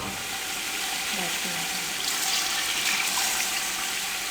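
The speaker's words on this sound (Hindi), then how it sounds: "अब इसमें हम पानी डाल देंगे।" Steady hissing, bubbling wash of water poured into a hot pot of frying chicken pulao base, continuous and fairly close, with no voices.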